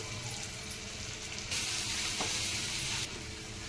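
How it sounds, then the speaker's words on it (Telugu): Taro root pieces tumble into a hot spiced pan and sizzle loudly, then settle into a steady frying hiss with a brief louder burst in the middle as they are stirred. "చామదుంపలు వేస్తున్నానండి. ఇది బాగా కలబెట్టుకుందామండి"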